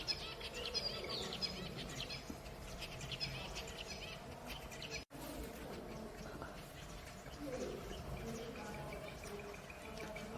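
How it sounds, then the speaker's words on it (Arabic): Small caged birds chirping inside a house at a health resort in Poland, a busy stream of high tweets over a steady background murmur, with someone talking throughout. "عصافير الجنة،"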